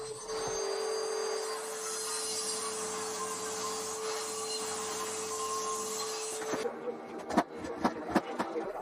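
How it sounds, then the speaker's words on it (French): A table saw runs steadily with a loud whining hum for several seconds while cutting 2x6 lumber, then cuts off, followed by a few knocks and clatters of wood. "J'ai commencé par débiter du bois à la scie sur table."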